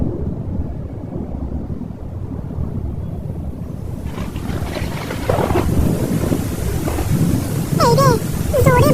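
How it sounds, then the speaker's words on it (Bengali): Heavy rain begins over a rural paddy field during harvest, a rising broadband hiss that thickens partway through with gusty wind noise, and a few brief animated sounds toward the end. "এই রে, জোরে বৃষ্টি শুরু হয়ে গেল যে"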